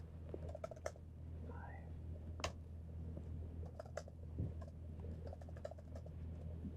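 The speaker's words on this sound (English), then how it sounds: "I'm typing in real words." Fingers type on a computer keyboard during a tabletop game session, sparse quiet clicks and taps in short bursts over a low room hum.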